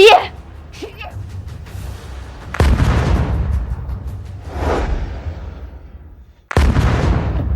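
A bomb goes off during a wedding scene in a drama, giving two heavy booms with deep rumbling tails and a whooshing sweep between them, cinematic and loud.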